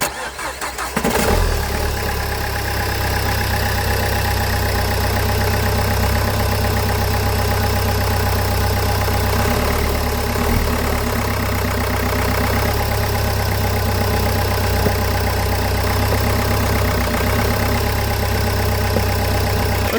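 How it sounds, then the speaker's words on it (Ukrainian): A cold Nissan car engine cranks briefly, catches and settles into a steady, even idle, loud and close, running alone for the rest of the time. "Ми попробуємо його завести."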